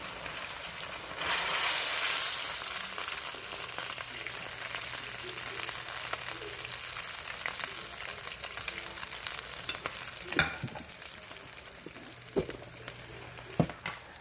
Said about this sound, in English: Now I'm gonna add my other Q steak in the grease.